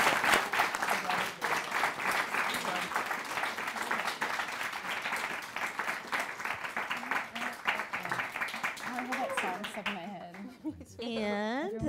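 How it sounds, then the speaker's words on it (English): An audience applauds panelists at a campus community conversation, steady dense clapping filling the room for about ten seconds before it thins out and a few voices and whoops rise near the end. "I want to give the panelists a huge round of applause."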